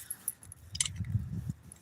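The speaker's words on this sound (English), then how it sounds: "We gonna hang the keys up right here." A small bunch of keys jingles and clinks as it is hung up beside a locked bike outside a county courthouse, a brief, close, light metallic rattle.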